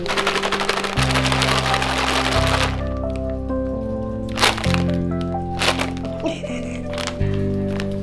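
Doritos mixed with jalapenos and American cheese are crunched up at a rainy lakeside camping shelter at Lake Whitney. Crisp crackling bursts come in short clusters over a steady tonal background.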